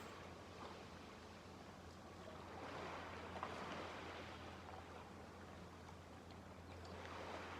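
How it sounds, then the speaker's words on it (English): Ocean waves wash on a beach in a soft, distant, continuous roar that swells gently and stays faint throughout. "Now notice the sound of the water."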